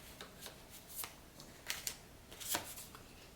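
Tarot cards being shuffled and one drawn, a run of soft papery flicks and riffles coming in quick irregular bursts, close and quiet with no talk.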